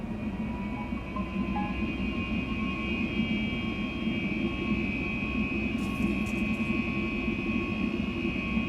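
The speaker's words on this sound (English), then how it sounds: "Wow, it's so loud, this plane." Steady, loud jet engine roar from a Boeing 737 MAX 8 in a flight simulator game, a continuous drone with a sustained high whine, climbing after takeoff, with no talk over it.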